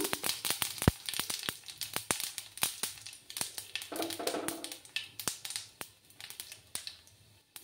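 Whole cumin seeds crackle in hot oil for a spicy potato gravy, with sharp, irregular pops and snaps close by that come in quick bursts and then thin out.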